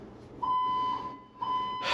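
Fire alarm in an apartment building sounding two loud steady electronic tones, each about half a second long, separated by a brief pause.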